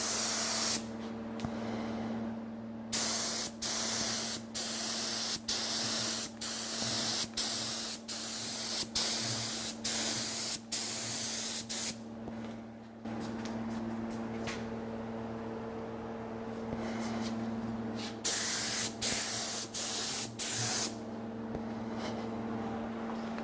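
A wash coat of finish is sprayed onto a guitar in short, regular hissing bursts from a spray gun, with a steady background hum between passes and no talking.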